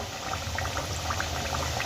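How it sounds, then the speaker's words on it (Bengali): Potato-stuffed kachuri deep-fry in hot oil, giving a steady, dense bubbling hiss that stays close and even throughout with no voices over it. "তেলের মধ্যে আমি কচুরিগুলো ছেড়ে দিয়েছি দু তিন মিনিট হয়ে গেছে"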